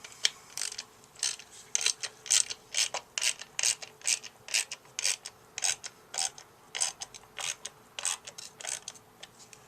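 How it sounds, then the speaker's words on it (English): A hand ratchet snugs the primary cover bolts on a 2010 Harley-Davidson Road Glide, producing a close, steady run of quick clicking bursts in a regular back-and-forth rhythm, with no voices. "Now I'm going to just barely snug these down before I torque them down in the same pattern"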